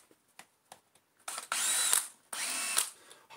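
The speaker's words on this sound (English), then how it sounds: "Take out the two side screws." A Torx screwdriver or small driver works screws out of a Shark UV700 vacuum: a few light clicks, then two sustained whirring bursts close by, with no talk.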